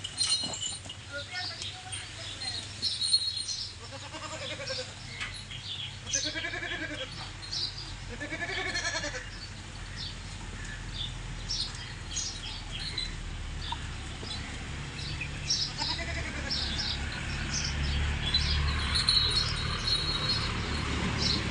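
Sirohi goats on a goat farm bleat a few times in a row early on, while a voice talks over steady insect-like chirping and background noise that grows slightly toward the end.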